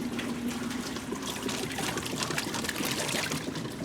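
Washing machine in its wash cycle, steady close sloshing and trickling water with a faint motor hum underneath, continuous and even throughout, no talking.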